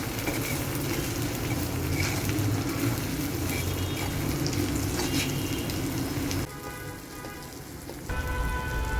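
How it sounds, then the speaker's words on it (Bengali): Onion and bay leaves fry in a pan with cinnamon, cardamom and salt, a steady dense sizzle and crackle that drops quieter for a moment before resuming. "পেঁয়াজ আর তেজপাতাটাকে ভালোভাবে আগে প্রথমে একটু ভেজে নেওয়া হচ্ছে।"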